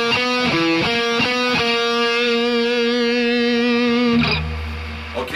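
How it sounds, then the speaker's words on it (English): A distorted electric guitar plays the second guitar part of a song: a few picked notes, then a long ringing held note, ending in a lower chug. It is loud and up close, with no other instruments. "the pattern for the second guitar sounds like this."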